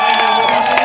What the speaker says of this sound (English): Can I get a round of applause for Robert Downey Jr.?